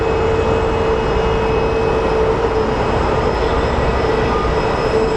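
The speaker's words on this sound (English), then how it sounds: "We have an American Airlines A321 coming in from, I don't know from where" An American Airlines Airbus A321 coming in to land at Sky Harbor Airport makes a loud, unbroken roar with a steady whine running through it, heard alone with no voices.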